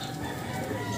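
A gamefowl rooster clucks softly in a short, low burst close by, with faint background noise and no clear speech.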